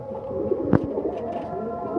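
Pigeons in a pigeon house at night, fed soaked chickpeas, a few soft low coos over a steady murmur, with a brief sharp knock midway and faint talk nearby.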